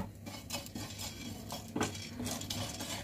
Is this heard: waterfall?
no